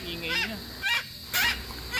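A Moluccan cockatoo's loud, harsh calls repeat in short honking bursts, several in quick succession, close by.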